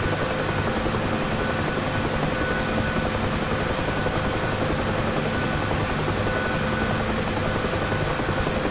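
A UH-1H Huey helicopter lifting off in the DCS flight simulator, its rotor and turbine producing a loud, continuous, unchanging drone throughout with no breaks or voices.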